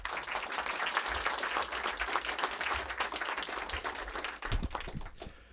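An audience applauds steadily to welcome author David Baldacci at an evening book event in D.C., a sustained wash of many hands clapping that thins out near the end.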